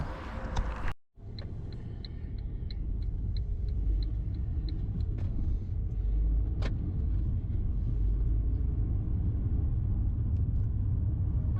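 A car's engine and tire rumble hum steadily from inside the cabin while driving on Temple Lane near Copmanthorpe, York, with faint ticking in the background and no talking.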